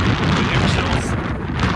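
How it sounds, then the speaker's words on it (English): Strong wind roars across the microphone in a continuous heavy rumble, buffeting loudly throughout, on a snowy winter morning at minus 30. "Morning. It's windy."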